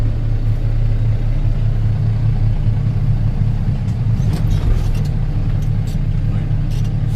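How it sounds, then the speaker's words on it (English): A class 1 truck creeps slowly forward while uncoupling from its trailer, a loud, steady low engine rumble close by throughout with a brief rattle partway. "I will move my truck slowly forward."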